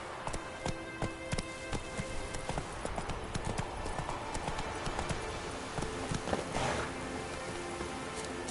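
Geralt's horse Roach trotting in the video game The Witcher 3, a steady rapid clip-clop of hooves close by, with light rain-like patter in the background and a brief voice.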